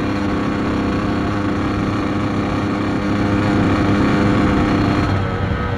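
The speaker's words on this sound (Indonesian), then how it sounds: "Kan agak susah lor ya kalau dua tak memang suaranya cempreng berisik." A two-stroke motorcycle with a racing exhaust runs close by, producing a loud, continuous buzzing engine drone that holds steady and rises slightly near the end.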